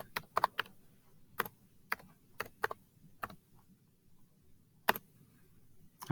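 Typing on a computer keyboard: a dozen or so sharp, isolated key clicks in uneven bursts and pauses, close to the mic over a quiet room hum.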